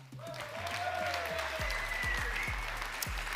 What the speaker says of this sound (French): Je vous propose d'applaudir une nouvelle fois tous les diplômés de bachelor en management.